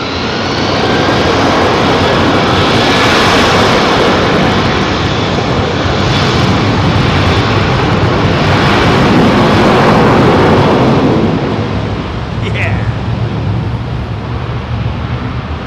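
ANA Boeing 787-9 with Pratt & Whitney engines on its takeoff roll from runway 27R at London Heathrow, a loud sustained jet roar that swells and holds, then eases slightly near the end.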